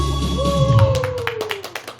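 Hand clapping starts after a sustained sung or held tone fades out. The claps come in a quick, regular series of sharp, close slaps from a group in a Korean singing class.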